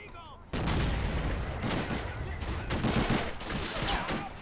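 Dense battle gunfire in the World War II strategy game Men of War: Assault Squad, with rapid overlapping shots and explosions from tanks and troops bursting in loudly and continuing as a sustained fusillade.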